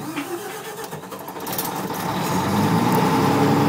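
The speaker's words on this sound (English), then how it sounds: "So we're going to start up in manual mode, just as safety precaution, so we can check the generator." A generator engine, run in manual mode for a check, cranks and catches, its rough churn building into a steady, loud, close running drone with no voices over it.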